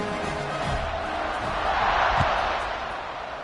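Penn State Nittany Lions college football stadium crowd roaring during a kickoff, a broad steady wash of cheering that swells louder midway and eases back, with faint whoops in the mix.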